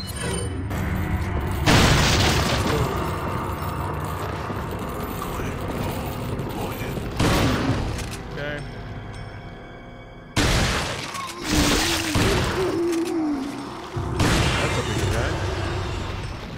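A big gun fires in a video game: a few heavy, loud booms hit at irregular intervals through a continuous layer of game noise and mechanical clatter.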